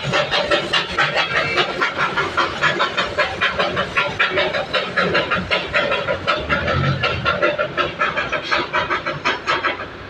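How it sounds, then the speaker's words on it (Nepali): A train rolls past near a wedding hall, loud and close, with rhythmic clattering of wheels over rail joints continuing steadily for the whole stretch. "ट्रेन पनि आयो।"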